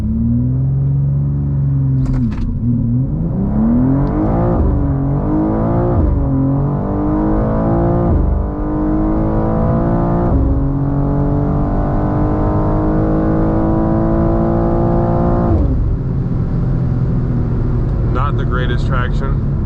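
BMW M2 G87 launching on a quarter-mile drag run, the engine roaring close and loud as it climbs through several gears, each upshift marked by a brief dip before the pitch rises again, with a voice briefly over it.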